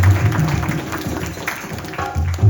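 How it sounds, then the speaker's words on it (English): Applause from the audience at a family yagna in a New York mandir, a dense, close, steady patter of many hands clapping over about two and a half seconds. "So please give him a round of applause."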